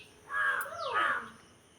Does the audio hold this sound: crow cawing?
yes